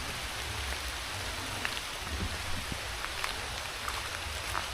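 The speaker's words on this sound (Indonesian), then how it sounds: "Dan hujan lagi" Steady rain falls at night in a cemetery in Jombang, a constant dense hiss with scattered close drips, with no talk.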